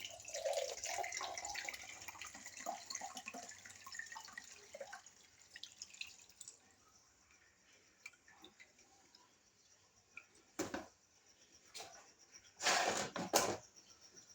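Liquid solution of a homemade fish immune and growth booster being poured through a sieve, giving a soft trickling and dripping stream up close that fades out, followed by a few separate splashy bursts near the end.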